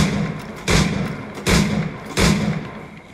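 Three heavy pistol shots from Assassin's Creed 4 Black Flag, evenly spaced booming thuds, each with a short decaying tail, over a low game ambience.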